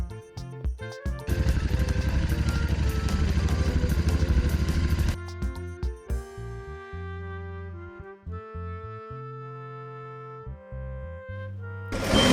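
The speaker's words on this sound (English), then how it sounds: "Motorcycle. This is motorcycle." A motorcycle engine revs loudly for a few seconds in a dense, rough roar, then cuts off and gives way to a simple musical tune.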